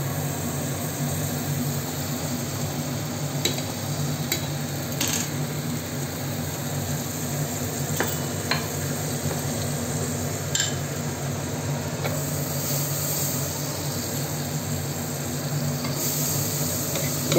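Butter sizzles on a hot tava griddle in a steady, even hiss that carries on throughout, with occasional faint scrapes and taps from a utensil.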